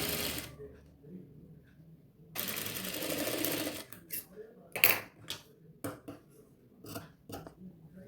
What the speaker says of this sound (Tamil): நம்ம எடுத்துருக்கிற கிளாத்தை ரெட்டையாக மடித்து இப்படி வச்சு ஓரத்தில் 1/4 இன்ச் அளவுக்கு ஸ்டிச்சிங் பண்ணிக்கலாம்.